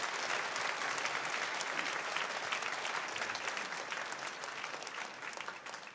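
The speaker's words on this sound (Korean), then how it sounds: "우리 나올 때 따뜻한 박수로" A church congregation applauding warmly, dense steady clapping from many hands filling the room throughout, close and continuous, fading slightly toward the end.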